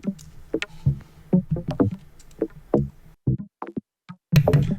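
Drum rack hits vocoded with a bass sound as the carrier, a series of short pitched, knocking percussive hits in a syncopated electronic pattern, up close and alone.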